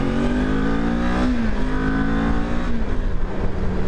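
A 2023 Kawasaki Ninja 400 KRT motorcycle pulls hard under acceleration, its engine a steady, loud, close buzzing drone that climbs in pitch through the gears, with wind rush layered over it.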